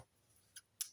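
Two quick crisp snips of scissors cutting cross-stitch fabric in two, close and fairly faint in a quiet room, the second snip louder than the first.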